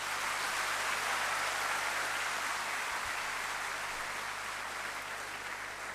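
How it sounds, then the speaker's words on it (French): Sustained applause from an audience at a ceremony, steady and dense clapping that fills the whole stretch at even volume and fades slightly toward the end. "Je pense que les applaudissements sont trop diplomatiques."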